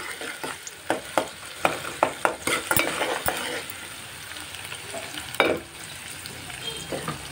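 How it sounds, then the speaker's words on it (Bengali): Chopped onions frying in a pan under a constant sizzle, stirred with a spoon in a string of sharp scraping clicks, close and fairly loud. "এখন আমি পেঁয়াজ কুচিটা একটু মিক্স করে নিচ্ছি"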